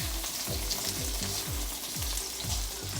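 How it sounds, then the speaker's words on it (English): Garlic sautéing in oil in a pan for a low-carb pad thai, heard up close as a steady, loud sizzle broken by regular scraping stirs about every half second, with no talking. "now I just tossed in my garlic. I'm gonna let them saute for like 30 seconds"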